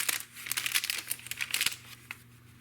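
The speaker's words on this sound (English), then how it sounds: "Don't you love the sound of tracing paper?" Tracing paper postcards in a vintage French bohemian handmade journal crinkle close and quiet, a run of crisp rustling bursts that fades to a few scattered crackles.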